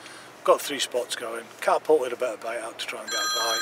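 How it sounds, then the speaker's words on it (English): A mobile phone rings beside a carp fishing lake, a steady tonal ringtone entering near the end, while someone talks over it about bait and fishing spots. "That's my phone ringing."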